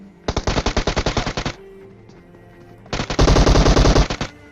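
Two rapid bursts of automatic gunfire in a shooting video game as bullets strike enemies' heads, loud and close, each a fast rattling volley of a dozen or more shots separated by a short quiet gap.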